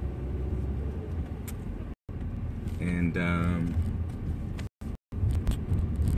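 The steady low rumble of a car's interior while driving, a constant road and engine drone heard from inside the cabin, with someone talking over it.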